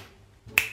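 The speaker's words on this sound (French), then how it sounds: "Et à mon claquement de doigts" A single sharp finger snap rings out close and crisp after a quiet, faintly humming stretch, its bright crack fading quickly.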